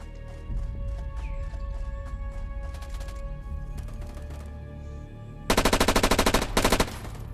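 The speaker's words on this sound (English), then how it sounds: "Somebody's shooting at me, but I don't really know." Machine-gun fire in the Contractors VR shooter on an MW2 Estate map, with distant bursts crackling over a steady game backdrop, then a loud, close rapid-fire volley of sharp shots near the end.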